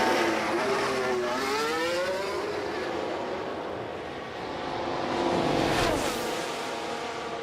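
Simulated Formula 1 race cars in the F1 Manager game at a China race, engine whine sweeping past with rising and falling pitch over a steady broadband roar, moderately loud and continuous.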